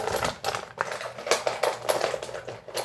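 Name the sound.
rummaging through a box of fragrance decants and samples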